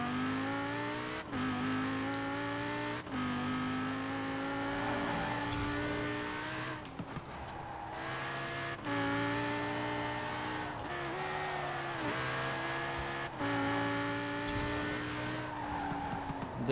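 A Corvette in Forza Horizon 4, its engine droning steadily with pitch sweeps as it revs and shifts, tires squealing through skids, loud and continuous without talk.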